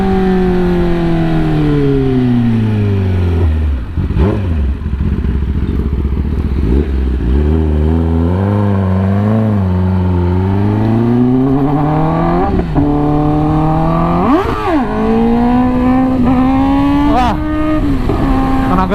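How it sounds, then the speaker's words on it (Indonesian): Up close, a Kawasaki ZX10R motorcycle engine revs loudly, its pitch sweeping up and down through repeated throttle blips and sustained pulls, with sharp spikes near the end. "Mainin gasnya tuh bener-bener ngeri banget kalau misalnya udah tinggi."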